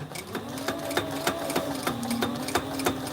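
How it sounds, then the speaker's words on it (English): A Sailrite sewing machine stitching a flight suit, running steadily with a rapid, regular needle clatter and a droning motor hum, close and fairly loud. "Back stitch a couple times and that one's done."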